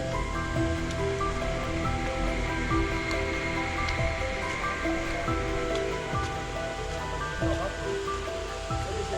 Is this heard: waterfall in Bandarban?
yes